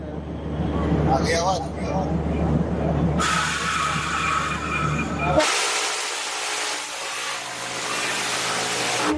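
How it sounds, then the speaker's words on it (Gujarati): A Humsafar Express train running between Jamnagar and Bandra gives off a steady broadband rumble and rushing noise that shifts in character partway through, with a voice talking over it. "આ હમસફર ટ્રેન"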